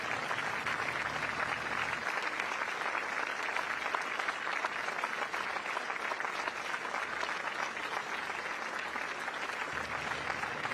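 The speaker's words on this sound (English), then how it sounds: "A round of applause now as incoming Prime Minister Lawrence Wong arrives on the Istana" Sustained applause from a crowd on the Istana grounds greets incoming Singapore Prime Minister Lawrence Wong and his wife, a dense, even clapping that continues without pause, with a low rumble faintly underneath.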